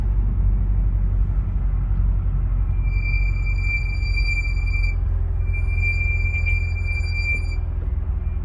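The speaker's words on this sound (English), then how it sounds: "I'm going to push the clutch in and hit the brakes lightly and listen for the sound" Brakes on a C7 Corvette squeal under light braking with the clutch in, a high, piercing tonal squeak that starts partway through, drops out briefly, then returns over a low road and drivetrain rumble.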